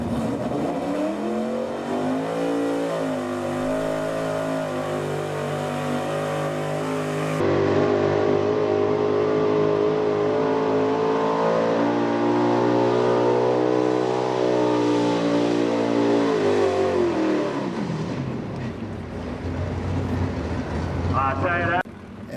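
A Chevy square body pulling truck called the Coal Crusher roars under load at a truck pull, a long sustained engine drone with shifting pitch that cuts off near the end, while an announcer talks over it.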